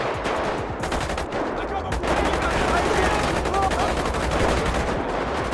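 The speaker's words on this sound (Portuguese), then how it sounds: "Cara, tomei uns dois tiros aqui agora" Rapid bursts of gunfire in a GTA-style video game crackle almost nonstop, loud and dense, with a brief lull before the shooting picks back up.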